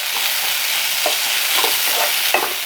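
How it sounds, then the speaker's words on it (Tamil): Boiled vegetables being lightly mashed and mixed together in a bowl for vegetable bonda, giving a steady soft scraping and squelching with a few duller knocks, fairly close and with no talking. "இப்போ இதை வந்து லேசாக இப்படி மசித்த மாதிரி கலந்து விடுங்க"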